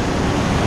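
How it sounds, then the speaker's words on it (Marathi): Sea waves wash over on the Konkan coast during shore fishing, a brief, steady rushing roar with no voices. "आता त्याच्या वरना गेला असं लाटा सगळा."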